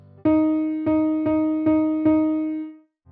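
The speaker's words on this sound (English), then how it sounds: "Here is a regular quarter note triplet." A quarter-note triplet is played as five evenly spaced notes on one sustained, bright pitched tone, each struck cleanly and ringing until the next, then fading out alone.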